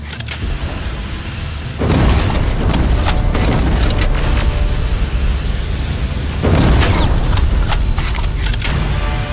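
A rocket blast in the Terminator: Resistance video game, two loud broadband booms around two and six and a half seconds, each trailing into sustained rumbling battle noise and mechanical clatter.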